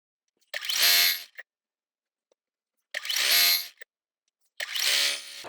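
A home sewing machine stitching quilt block pieces whirs in three short bursts of about a second each, separated by quiet pauses, close and moderately loud.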